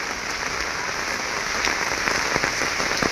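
Heavy rain pouring down in a flooded village, a loud, dense, steady hiss with scattered sharper drop impacts throughout.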